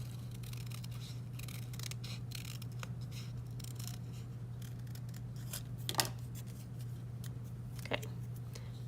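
Scissors snip paper for a collage mask, with a string of close, crisp cuts over a steady background hum and a couple of sharper clicks.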